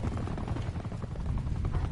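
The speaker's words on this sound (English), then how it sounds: "The helicopter, do your thing, boy!" Attack helicopter killstreak in a multiplayer shooter video game, a steady dense rotor drone with faint mechanical and gunfire texture, loud and continuous without speech.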